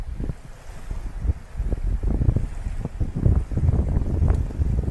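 Steady, cold wind buffets the microphone over the low rumble of sea waves on the coast at Skive, Denmark, with rough gusty bursts and no voices.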